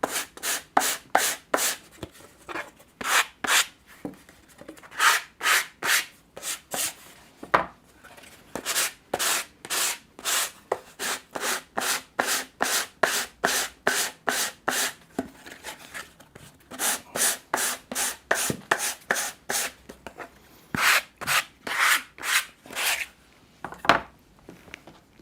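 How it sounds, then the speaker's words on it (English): A wooden box being sanded by hand, with steady rhythmic rasping back-and-forth strokes close to the mic, grouped in runs with short pauses between them, and no talking. "I'll just sand this one also."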